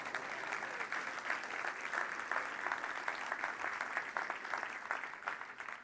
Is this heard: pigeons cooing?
no